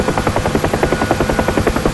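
A UH-1 Huey helicopter in flight in the DCS combat simulator, its rotor thumping in a loud, rapid, even beat over a constant turbine drone.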